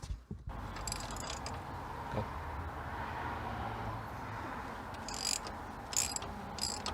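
Ratcheting tools undo subframe bolts on a CG10DE-powered Mini, giving close mechanical clicks and brief metallic clunks in a short sequence over a steady low background rumble.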